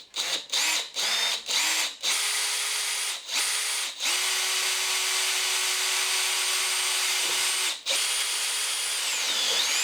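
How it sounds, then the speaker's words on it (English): A power drill with a step bit bores a hole in acrylic sheet, starting in several short bursts and then running in long, steady, high-pitched whirring stretches with brief stops, close and loud. "we're going to start off by drilling a hole"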